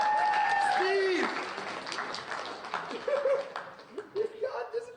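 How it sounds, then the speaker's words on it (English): An audience at a live comedy show gives a round of applause, a dense wash of clapping that fades after about a second, with a voice talking over it and scattered chuckles as the clapping thins. "Big round of applause,"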